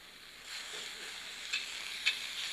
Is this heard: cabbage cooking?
yes